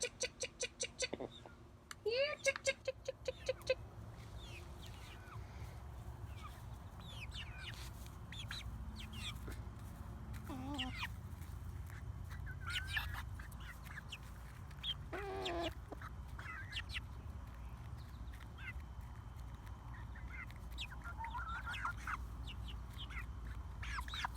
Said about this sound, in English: I would include a few minutes of our adorable chickens